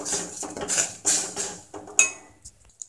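A spoon scrapes and knocks against a pan while urad dal flour and rice flour are mixed in off the stove, in a run of irregular clinks and scrapes that trails off into a few faint taps.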